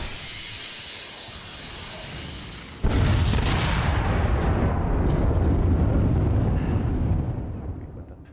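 Explosions and weapon fire from the AR video game The Machines on an iPhone: a sudden loud blast at about three seconds rolls into a sustained rumbling roar and hiss that fades near the end.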